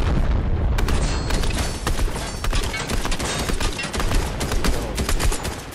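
Rapid gunfire and explosive booms from a Fortnite match, dense and continuous with sharp repeated shots layered over heavy low rumble throughout, loud and close with no talking.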